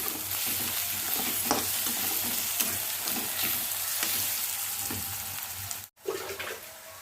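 Chicken curry in a pan with chilli powder and turmeric being stirred in, a continuous sizzle broken by rhythmic scraping strokes of a spoon, close and loud, with a brief cut near the end.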